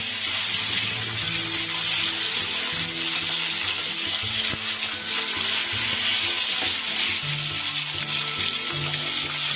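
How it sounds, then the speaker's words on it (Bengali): Bhola fish pieces rubbed with turmeric and salt fry in hot oil, giving a loud, continuous sizzle with bubbling crackle, close and steady throughout, with no talking. "এবার আমি মাছগুলোকে ভেজে নেব।"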